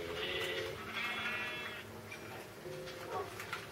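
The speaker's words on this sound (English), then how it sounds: "This is my sheep farm." Sheep bleat on a sheep farm in the video game Minecraft. Several wavering, nasal calls repeat across a few seconds over a busy background, fairly loud and close.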